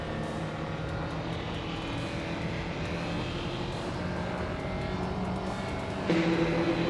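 A Ford Spec Racer drones steadily around the track, a continuous near engine tone with harmonic whine, rising slightly louder near the end.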